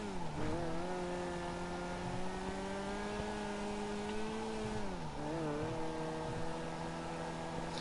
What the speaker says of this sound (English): you hear it doesn't change gear early enough. It's like quite high up all the time. The revs are quite high.